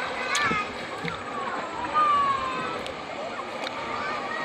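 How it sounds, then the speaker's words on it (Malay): Children splashing while swimming and bathing in the Wahau river, scattered light splashes and water sloshing at a moderate distance, with people talking over the sound. "Anak-anak ini ada juga yang sudah tahu berenang, ada juga yang belum tahu berenang ini"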